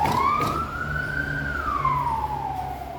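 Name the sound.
ambulance siren passing on a nearby highway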